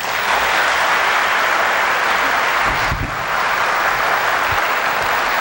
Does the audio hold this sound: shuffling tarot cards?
no